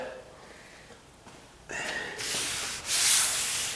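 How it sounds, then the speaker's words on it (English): Light hand sanding along edges during a condo renovation, quiet at first and then a steady close rubbing scrape that grows louder over the last two seconds. "I can see where I still need to lightly sand."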